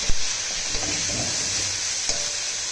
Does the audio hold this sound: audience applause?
no